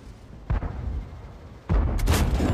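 Two booming tank cannon shots in a World War II tank battle video game, the second heavier and followed by a loud rumbling tail, with near silence between them.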